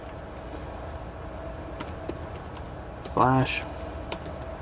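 Computer keys are tapped in a light, sparse pattern while a fastboot command is entered. The clicks are close but soft and under a quiet room hum, and a voice speaks briefly near the end.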